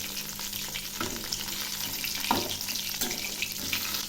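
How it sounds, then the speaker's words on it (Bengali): Eggplant slices frying in a pan, a quiet steady sizzle with soft scraping and stirring sounds as the pieces are turned, no talking. "এইভাবে ঘুরিয়ে ঘুরিয়ে ভেজে নেব।"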